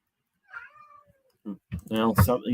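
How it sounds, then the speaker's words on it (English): A studio cat meows a few times in a quiet room, the thin rising cries fairly close, before people start talking over it. "shout out to the studio cat"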